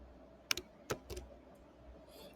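Keys on a computer keyboard are pressed a few times in a quick, irregular cluster of soft clicks, faint and close, with a quiet room hum behind.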